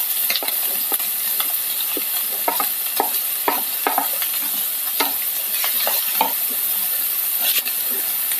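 Onion frying in a hot pan with green chilli and ginger, stirred with scraping strokes over a steady close sizzle and no talking.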